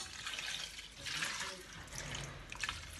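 A small splash of water poured into a chicken sauce as it cooks, a steady faint running trickle with a few brighter drips, no talking.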